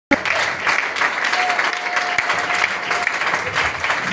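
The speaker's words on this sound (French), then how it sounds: "Est-ce qu'on peut lui donner une acclamation?" A church congregation breaks into applause during a French-language sermon, a sharp onset followed by dense, steady clapping with a faint sustained tone underneath.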